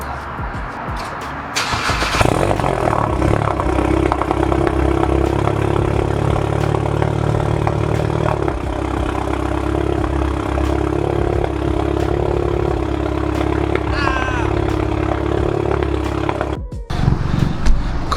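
A Volkswagen MK7 GTI idles with an ECS muffler delete, a loud, steady low engine drone that holds for most of the stretch after a brief rise near the start, then cuts out sharply near the end.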